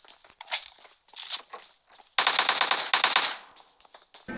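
Bursts of automatic gunfire in the mobile battle royale game PUBG Mobile, with scattered shots and footstep-like crunches early on, then a loud, sustained rapid volley in the middle, close and dominant.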